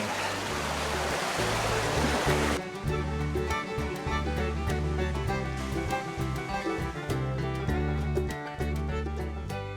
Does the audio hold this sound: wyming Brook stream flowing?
yes